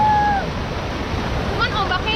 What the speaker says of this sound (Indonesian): Cuman ombaknya ini harus hati-hati juga ya, ombaknya tiba-tiba besar gini